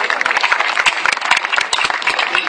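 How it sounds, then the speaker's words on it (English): A crowd at the TAG Awards ceremony applauds, a steady, full burst of many clapping hands with distinct individual claps poking through the dense wash. "a big round of applause for the beautiful lady Pia"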